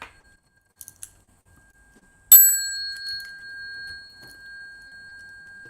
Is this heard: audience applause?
no